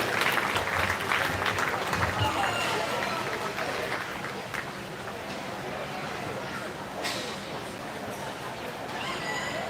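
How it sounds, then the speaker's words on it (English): An audience claps in a sustained round of applause at a 4-H and FFA swine show at a county fair, with mixed crowd noise and an announcer's voice over the clapping. "give these 5 individuals in this particular drive here a big round of applause"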